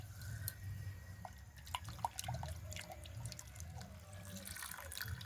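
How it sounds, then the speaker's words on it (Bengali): Lukewarm water sloshes and drips as a mixer grinder jar is rinsed out, with soft irregular splashes and trickles over a low background rumble, fairly faint and close. "এই জলটা দিয়ে মিক্সি জারটা ভালো করে একটু ধুয়ে নেব।"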